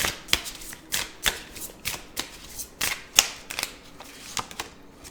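A deck of tarot cards being shuffled up close, a series of crisp riffling bursts and taps repeating roughly every half second, with no voices.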